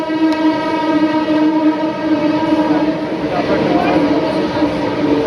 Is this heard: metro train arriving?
yes